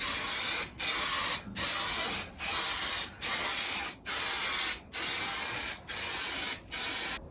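Adhesive sprayed from an aerosol can onto a car's headlining in a series of about nine steady bursts, each roughly half a second long with short silent gaps between, close and fairly loud with no talking.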